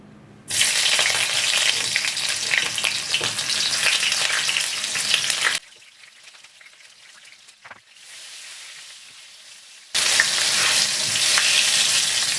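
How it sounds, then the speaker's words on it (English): Sliced onions hit hot oil for a Cameroonian mbongo tchobi black sauce, bursting into a loud, steady sizzle that cuts to near quiet midway and then surges back up. "So as you can see, our oil is hot. I'm just gonna add some onions, some slice of onion."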